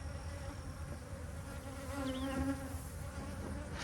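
Steady insect buzzing of honey bees fills the whole stretch, a dense continuous drone with a few individual bees whining past close by.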